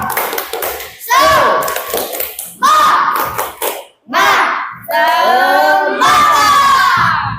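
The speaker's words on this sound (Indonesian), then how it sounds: "Tepuk semangat." A group of children in a classroom shout a loud, rhythmic Indonesian 'tepuk semangat' call-and-response clapping chant in energetic bursts, close by, with claps likely punctuating the phrases.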